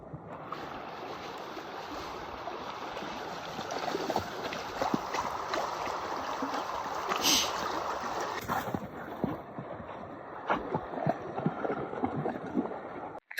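Gila River at the Forks Campground in Arizona, a steady broadband rush of flowing water heard close and continuous, with scattered small splashes and knocks near the end.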